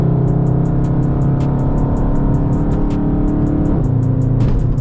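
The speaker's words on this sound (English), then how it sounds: "the beautiful sounds this engine makes" A Dodge Charger 392 Scat Pack engine hums steadily and shifts pitch midway as it accelerates, close up, with a rhythmic ticking above the drone and no speech.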